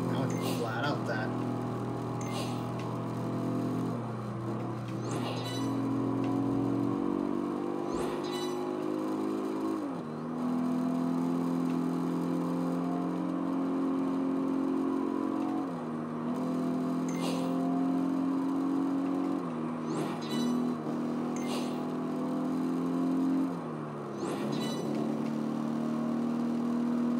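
Racing cars at full throttle in Project Gotham Racing 4 on the Nurburgring full circuit, a loud continuous engine whine that climbs in pitch and drops with each gear change, over and over, with someone talking on top.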